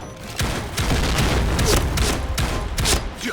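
Rapid bursts of video-game gunfire, several loud shots in quick succession close up, with booming impacts across the whole stretch.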